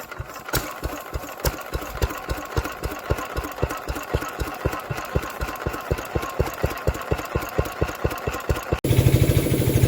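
An air compressor runs outside with a steady, rapid mechanical chugging, loud and continuous, its pulses evenly spaced until it shifts to a rougher, louder tone at the very end; no voices.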